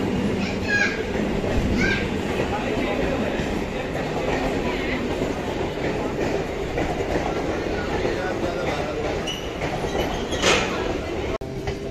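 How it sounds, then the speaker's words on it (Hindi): A passenger train pulls away from a station in India, its steady rumble and faint clickety-clack filling the scene at close range, with distant voices and children in the background. "ट्रेन चल दी है"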